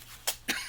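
Two sharp coughs, a third starting at the very end, from a person at a crafting table, close and fairly quiet with short gaps between them.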